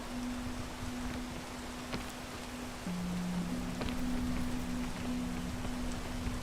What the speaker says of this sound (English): If anything, the rain isn't good for you.